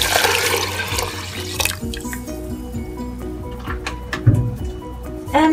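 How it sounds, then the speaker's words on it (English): Two litres of water pour into a soup pot for a vegan tomato and lentil soup, a steady close splashing and dripping with small sloshes and a brief louder gurgle near the end. "the last 2 things that are going in is 2 litres of water"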